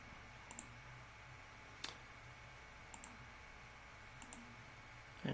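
Faint, sparse mouse clicks sound over quiet room hiss, a few isolated ticks spread out, some in quick pairs.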